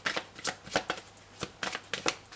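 Tarot cards being shuffled for a card reading, with several quick riffling bursts in close succession, crisp and fairly near, and no talking.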